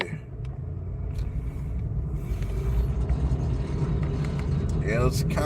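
A car drives along a road with a steady engine rumble and road noise rising through the clip, while a person talks over it.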